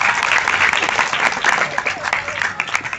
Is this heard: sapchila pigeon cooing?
no